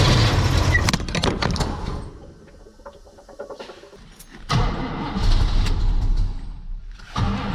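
A Chevrolet El Camino engine is cranked in repeated bursts by the starter without catching, loud and close, with quieter clanks and shuffling between attempts.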